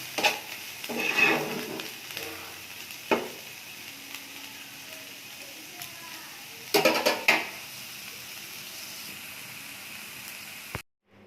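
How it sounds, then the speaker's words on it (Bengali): Bottle gourd peel frying in a pan with a pinch of sugar, a soft steady sizzle under repeated scraping stirs and a few spoon clinks near the start and middle, ending abruptly. "লাউয়ের খোসা ভাজা হয়ে গেছে, সামান্য একটু চিনি দিয়ে দিচ্ছি, দিয়ে নেড়ে ছেড়ে গ্যাসটা বন্ধ করে দেবো।"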